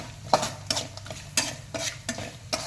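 Maggi masala mixture being stirred in a pan, a spoon scraping in quick repeated strokes over a faint frying sizzle, close up with no voices.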